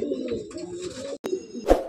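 Black-green pigeons coo nearby in low, throaty phrases, with a short gap and a louder burst near the end, no voices present.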